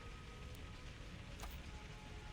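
Rain falls in Skyrim Anniversary Edition as a steady, faint hiss of drizzle, with soft patter and a couple of brief higher ticks. No voice is heard.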